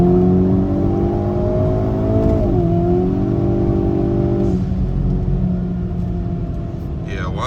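Hyundai Kona N with a JB4 tune pulls hard on a highway, its engine droning loud and steady with rising and falling pitch through gear changes, wind and road rumble underneath, and a voice talking over it.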